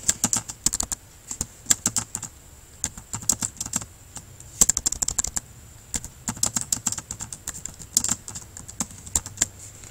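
Rapid keystrokes on a computer keyboard while text is entered for a speech bubble in the Zooburst web tool, coming in quick irregular bursts with brief pauses, close and clear with no talk.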